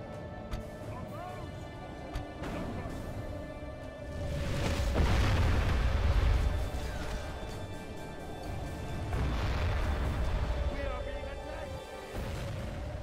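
Archers and artillery loosing volleys during a Medieval 2 Total War battle: two swelling waves of deep booming and rushing noise over a steady battlefield din, with someone talking over it.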